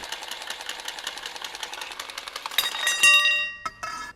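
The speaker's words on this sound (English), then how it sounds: "I'm going to utilize the Milwaukee cordless copper cutter." A Milwaukee cordless copper pipe cutter cuts copper pipe while a hot water tank is being plumbed in, giving a fast buzzing motor rattle that ends with a few sharp metallic clicks and knocks.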